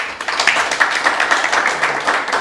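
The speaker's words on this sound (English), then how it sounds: "let's give him a round of applause" A small audience at a programmers' meetup claps in a brief, steady round of applause with many hands close together, moderately loud and fairly even for a couple of seconds.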